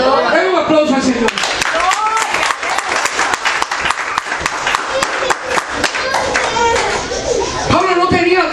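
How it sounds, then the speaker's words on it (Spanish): Church congregation clapping together during a Spanish-language service, a loud, sustained burst of applause with scattered voices and cheers mixed throughout. "Den un aplauso al Señor."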